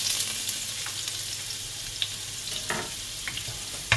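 Garlic frying in fat in a pan during Cambodian home cooking gives a steady, close sizzle with small scattered pops and occasional stirring clicks, and no voices.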